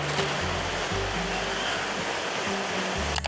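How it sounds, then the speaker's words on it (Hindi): Ocean waves at sea make a dense, continuous rushing roar with no distinct breaks, heard alone. "एक समुंदर के बीच लहरों का शोर"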